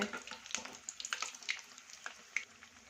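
Slices of raw banana coated in batter for bajji sizzle in hot oil over a low flame, a steady close crackle dotted with sharp pops and spits, with no talking.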